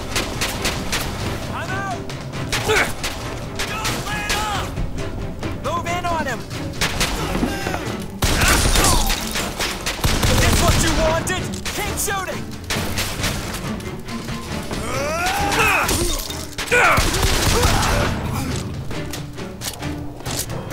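Enemy gunfire in the video game Bioshock Infinite, with repeated shots and booming bursts spread across the stretch under steady talking from a player.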